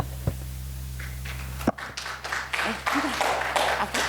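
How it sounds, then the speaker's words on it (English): An audience at a nuclear medicine symposium applauds a presenter, a brief burst of scattered clapping that starts after a sharp knock and a low hum cut out. "Give it a applause for Dr."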